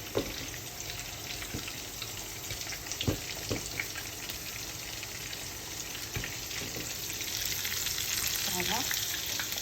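Marinated chicken drumsticks fry in a pan over lowered heat, a continuous close sizzle with occasional sharp pops and spatters that swells slightly louder toward the end.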